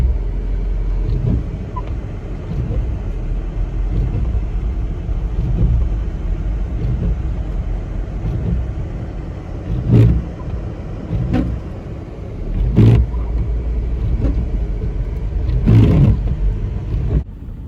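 A car driving along a snowy road, heard from inside as a steady low engine and road rumble with a few louder thumps and swells from bumps along the way.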